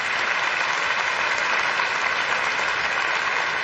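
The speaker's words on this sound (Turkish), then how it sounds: "Alkışlarınızla Şükrü Asıl Eren" Audience applause for the runner-up of a Quran recitation competition, a steady dense wash of clapping from a large indoor crowd, sustained at even loudness throughout with no talking over it.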